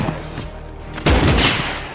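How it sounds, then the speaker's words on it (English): Shotgun blasts from pipe or pump shotguns in the Rust survival game, a sharp loud burst near the middle followed by a ringing tail over a faint background. "They have pipe or pump shotguns."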